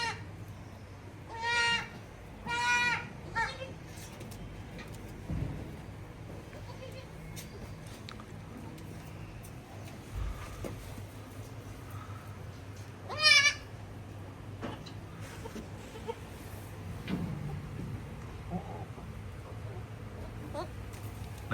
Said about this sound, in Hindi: बकरी थोड़ी कमज़ोर हो गई है, इस वजह से कि बकरी ने 3 बच्चे डिलीवर किए हैं।